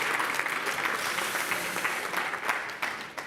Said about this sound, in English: a huge round of applause to Echo and team